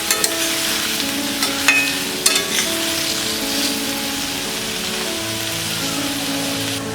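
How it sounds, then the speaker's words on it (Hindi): Okra frying on medium flame in a pan, a loud steady sizzle with crackling pops, a few sharp utensil scrapes early on, close and continuous without voices. "इसे मीडियम फ्लेम में 5 मिनट तक फ्राई करेंगे पहले।"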